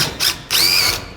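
A cordless drill drives screws into an overhead attic lift mount set among roof framing, giving two short whirring bursts, the second longer and steadier with a rising high whine, close and fairly loud with no talk.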